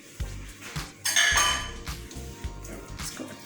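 Rice being stirred into two tablespoons of oil in a cooking pot, with repeated clinks and scrapes of a spoon against the metal, close and moderately loud, in uneven bursts.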